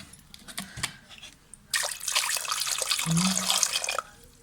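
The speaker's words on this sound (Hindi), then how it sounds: "आपने पानी इतना डालना है कि टमाटर सिर्फ इसमें इस तरह हो।" Water poured from a tap or jug onto tomatoes in a pot for red sauce pasta, a steady splashing gush lasting about two seconds after brief handling noises.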